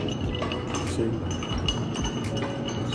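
A bourbon cocktail being stirred in a glass, with faint scattered clinks of ice and spoon against glass over a steady room background and some nearby voices.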